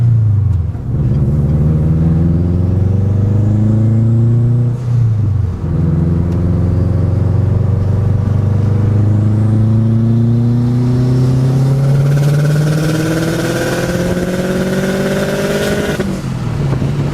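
A car engine revs hard in third gear from about 2750 to 6500 rpm, its loud, rising drone climbing steadily in pitch with a brief dip near a shift, then sweeping higher toward the end, close and without talk.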